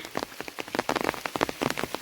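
Rain patters steadily and close by on a surface outdoors while cows are being herded in a tribal farming area, a dense scatter of drops with no voices.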